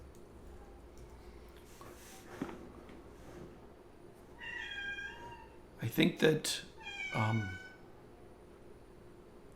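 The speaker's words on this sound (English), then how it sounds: "our cat is so damn loud sometimes" A house cat meows loudly several times in quick succession in a quiet room, drawn-out cries near the mic, with a voice talking briefly just before.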